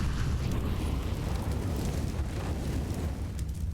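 A grenade blast in the video game CS:GO during an ESL Pro League match, a dense, loud rumbling roar of fire and explosion filling the whole clip with no voices over it.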